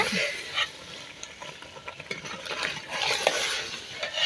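Meat being stirred and braised in a pot, with repeated scraping and stirring strokes of a utensil over a low sizzle, close and moderately loud.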